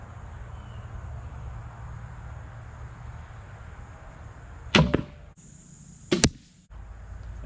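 Two crossbow bolts from a crossbow fitted with a glued-on red dot scope strike the target outdoors, each a sharp, loud impact about a second and a half apart over quiet wind-like background noise.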